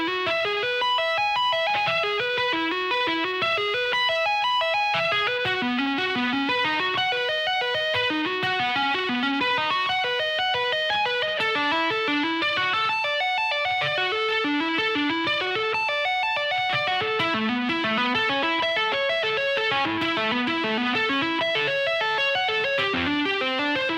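Electric guitar playing funk rock tapping licks at a slow tempo, with steady runs of quick, evenly spaced notes for the whole stretch, loud and clear and without talk.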